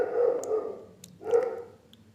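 A dog barks twice, a few deep, fairly close woofs about a second apart, alone against a quiet background.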